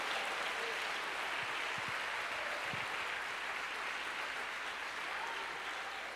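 A church congregation claps in continuous, even applause that sounds steady and somewhat distant, with no single claps standing out.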